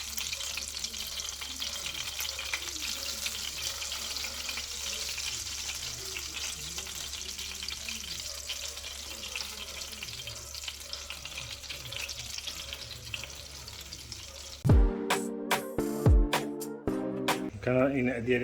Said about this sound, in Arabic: دابا ملي سخنات لنا الزبده ديالنا غادي نحطو الكريات ديال اللحم باش يتقلاو